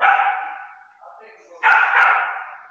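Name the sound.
puppy dog barking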